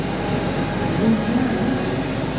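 A 1973 Volkswagen kit car engine idles right after starting, a loud, steady, close rumble that holds even for a couple of seconds.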